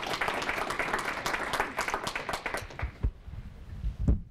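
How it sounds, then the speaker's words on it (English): Audience applause for a startup week panel, a dense wash of many hands clapping that carries steadily for about three seconds, then thins to a few scattered last claps. "will you please give them a round of applause?"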